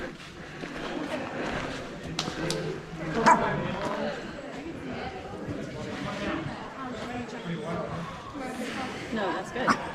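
A dog barks a few times amid outdoor chatter at Red River Gorge Geological Area, with people talking over and around the barks.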